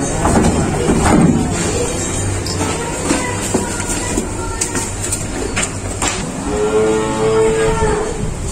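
Limousin bull cattle lowing in a farm setting, a long drawn moo rising near the end over steady background noise and scattered clatter.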